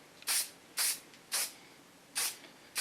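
Hard-hold hairspray is sprayed onto a sleek pixie haircut in five short, crisp hissing bursts, each under half a second, spaced unevenly with quiet gaps between them; close and fairly loud.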